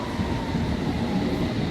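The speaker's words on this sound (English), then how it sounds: "This is a district line going to Upminster." A London Underground District line train bound for Upminster, a steady low rumble of the carriage running along the track, continuous and close with no talk.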